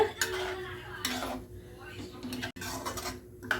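A spoon scrapes and clinks around a metal pan in quick, uneven strokes, stirring spices for leftover idli masala, close by, over a soft background hiss.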